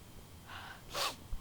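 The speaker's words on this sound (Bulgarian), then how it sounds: "Извинете, че подсмърчам много" A person with a cold sniffles, giving a short, breathy nasal intake, then a quick snort, fairly close over a steady low background hiss.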